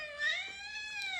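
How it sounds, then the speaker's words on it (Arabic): A cat gives one drawn-out, wavering meow that rises and falls. It is faint and close, with no talking over it. "عمل مياو."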